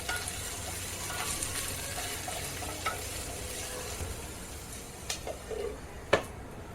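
Capsicum (bell pepper) fries in a pan, giving a soft, continuous sizzle with occasional clicks and scrapes from stirring, close and fairly quiet, with no talking.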